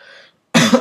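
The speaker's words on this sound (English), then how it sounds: "I have got a cough" A single sharp, loud cough close to the microphone comes right after a short, quiet murmur of speech and a brief silence.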